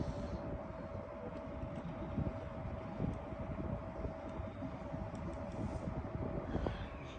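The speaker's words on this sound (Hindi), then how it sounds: "तो ये भी 24 पे AC चल रहा है" A 1.5-ton inverter air conditioner set to 24 degrees runs with a faint, steady broadband whoosh and a constant low hum, with no voices.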